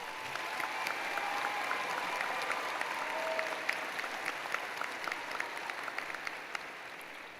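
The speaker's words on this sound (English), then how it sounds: "Let's give one more round of applause for our graduates." A large crowd at a spring 2024 commencement ceremony applauds the graduates: a broad, sustained wash of clapping with sharper individual claps popping out, heard at a moderate distance and holding steady throughout.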